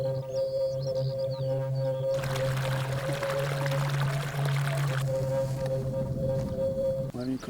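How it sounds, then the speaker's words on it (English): A river flows through a swamp on Dartmoor with a steady watery rush that swells louder through the middle stretch, while a low constant hum runs underneath the whole time. "Because there's a river there."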